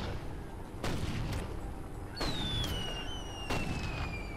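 Repeated gunfire and heavy artillery-like booms in the Toy Soldiers video game, several loud blasts a second or so apart over a rumbling battle bed, with a whistling descending tone overhead and no talk.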